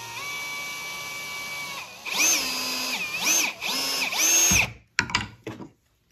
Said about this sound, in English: Now we need to also pre-drill our shoes right here in the middle